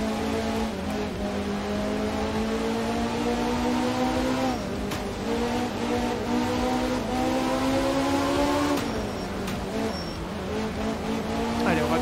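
A rally car engine in the video game Art of Rally drones steadily through a Finland stage, rising and falling in pitch as the throttle lifts and reapplies, with tire noise and a voice talking over it.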